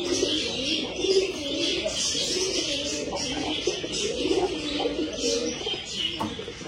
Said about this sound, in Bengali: এদিকে সব পায়রাগুলো ঢুকছে খোপে।